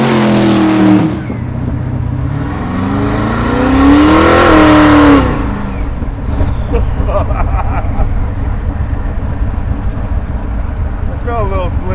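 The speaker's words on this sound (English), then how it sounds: "All right, let's go for a drive." A car pulls away and accelerates hard, its engine climbing through rising revs to a loud peak before easing off into a steady, rough running drone close by, with a voice speaking over the engine.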